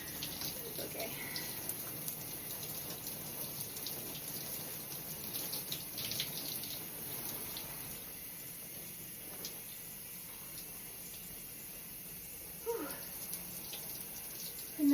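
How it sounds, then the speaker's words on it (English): Tap water runs quietly and steadily while dreadlocks are rinsed indoors, a soft continuous hiss with small splashes and shifts in flow, briefly louder near the end. "And when you think you're done, rinse some more."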